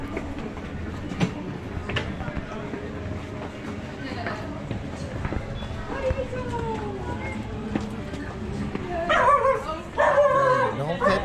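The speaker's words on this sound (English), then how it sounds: "Don't pet the dog, don't feed the dog." A dog on a street in Comuna 13, Medellín, Colombia barks and yips among passing footsteps and background chatter, the sharp barking growing louder and more frequent toward the end.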